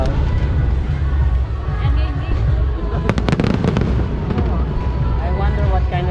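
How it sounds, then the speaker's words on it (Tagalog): Fireworks bursting during a display in the Philippines, a dense continuous barrage of booms and crackles with a cluster of sharp reports near the middle, loud throughout under crowd chatter. "The fireworks is bigger."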